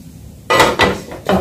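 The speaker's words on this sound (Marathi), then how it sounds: "तवा ठेवले, तवा तापलो" A metal tava griddle set down on a gas stove, giving a few close, sharp clanks and scrapes in quick succession.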